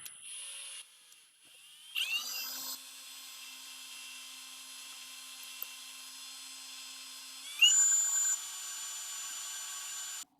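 A drill with a small bit runs at slow speed, boring a hole for a screw extractor, with a steady whining hum that swells slightly as the bit bites in, close and alone without talking.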